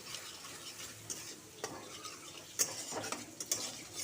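Grated onion, turmeric, cumin and coriander powder with a little water being sautéed in a pan for prawn posto, a quiet low sizzle broken by a few spatula scrapes and clicks.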